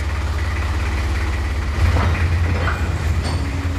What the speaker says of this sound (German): Per Eisenbahn rollen die Steine Richtung Schacht.